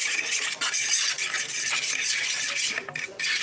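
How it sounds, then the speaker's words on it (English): A utensil stirs mushrooms in a pan, with a soft continuous scraping and light sizzle close up, and a splash of wine has been added to the cooking. "And then we're going to stir this up again."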